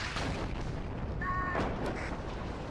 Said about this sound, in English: Enemy artillery already coming in.